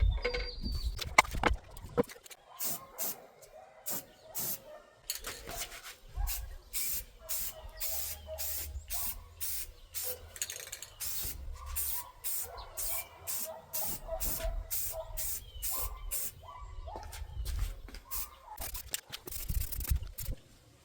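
Aerosol finish sprayed in coats onto a European deer skull mount on a hackberry plaque: a long run of loud, close hissing bursts, each a second or so, repeated steadily with brief gaps.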